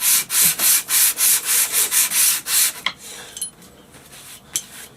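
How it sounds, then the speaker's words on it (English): Sandpaper rubs rust off the sole of a vintage hand plane in about ten rapid, even back-and-forth strokes, loud and close, then stops, leaving a few faint scrapes and taps. "press down and sand, and now you can see that rust has all but been cleaned off."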